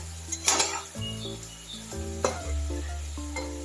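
Food bubbles and sizzles steadily in a pan on low heat once the lid is lifted, a soft continuous frying hiss with occasional light clinks of metal against the pan.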